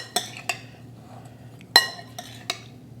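Onions being gently folded into a pinto bean dish in a bowl: a handful of crisp spoon-on-bowl clinks and taps, spaced irregularly and close by over a quiet background.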